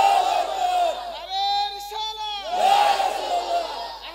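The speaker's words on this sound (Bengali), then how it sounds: "হুজুর একটা জোরে তাকবীর দেন।" At a Bangla religious sermon, a large crowd shouts the takbir together in loud, sustained chanting waves, with a brief dip in the middle before the shout swells again.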